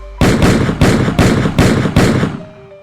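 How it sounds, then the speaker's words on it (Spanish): Six loud gunshots fired in quick, even succession, each sharp blast followed by a brief rumbling decay, close and dominant, fading out at the end. "hizo lo único que podía hacer: 6 disparos"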